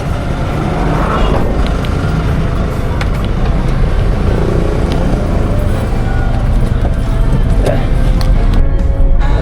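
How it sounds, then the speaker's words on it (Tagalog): Loud, continuous road traffic rumbles near San Fernando, Pampanga, with dense vehicle engine noise and a few faint horn-like tones mixed into the steady drone. "Traffic."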